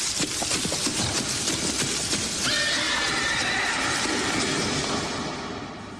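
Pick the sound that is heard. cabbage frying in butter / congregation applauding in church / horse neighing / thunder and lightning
horse neighing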